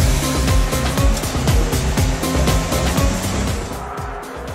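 Sports cars lap the track at Dubai Autodrome, engines loudly revving and climbing through repeated gear shifts in quick succession, close by and with no talk over them.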